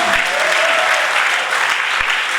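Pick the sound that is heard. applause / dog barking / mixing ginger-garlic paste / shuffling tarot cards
applause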